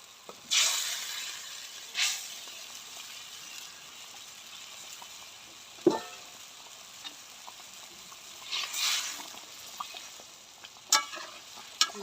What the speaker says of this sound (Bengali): এবার আমি মাছ আর আলু বেগুন ভাজা ঝোলে দিয়ে দিব।